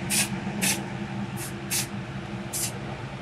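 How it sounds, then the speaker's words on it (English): Spray paint hisses in five short, evenly spaced bursts as black paint is sprayed over a small metal model tree, each bursts crisp and close against a faint background hum. "I did have to spray paint some black paint over it"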